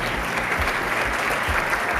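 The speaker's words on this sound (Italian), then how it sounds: "Facciamogli un applauso." A brief burst of full audience applause at a live stage event as students come up onto the stage, dense clapping sustained evenly for two seconds without speech.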